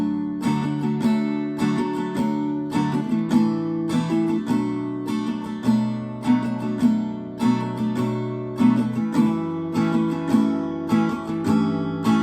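Steady acoustic guitar strumming of chorus chords, played close and clear with no voices, a rhythmic pattern of accented strums running continuously.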